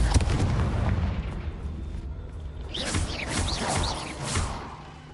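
A Confringo spell in Hogwarts Legacy bursts into a booming fiery blast, followed by crackling debris and whooshing magical effects that fade over several seconds.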